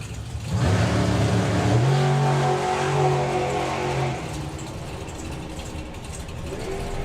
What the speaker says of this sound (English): Throttle stop kicking in and releasing again.